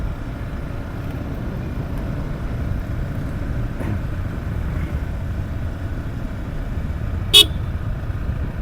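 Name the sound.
vehicle horn honking on mountain road ride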